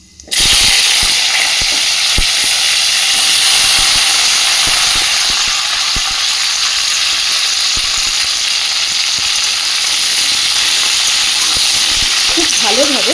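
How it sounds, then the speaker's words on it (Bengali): Broad beans and potatoes frying with panch phoron in hot oil, a loud continuous close-up sizzle and hiss that starts abruptly and holds steady, with faint scattered clicks. "খুব ভালোভাবে এবার সব কিছুকে একটু ভেজে নেব।"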